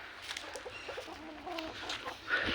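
A backyard chicken clucks in soft, repeated bursts at a moderate distance, with faint background noise and a slightly louder cluck near the end.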